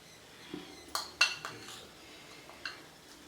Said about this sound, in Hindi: अब हम इसको इस तरह हिला लेंगे